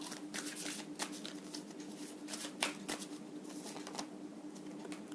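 Tarot cards being shuffled by hand, a soft, close, continuous riffling patter with small flicks and taps, fairly quiet and without talk.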